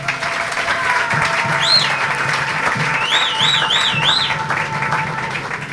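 A church congregation applauds in sustained, dense clapping that fills the room, with cheers and whistles rising over it.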